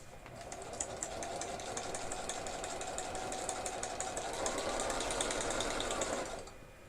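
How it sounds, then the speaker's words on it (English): A sewing machine stitches around a fabric pocket in a rapid, even run of mechanical ticking and whirring that holds for about six seconds before stopping. "I'm gonna sew around it real fast."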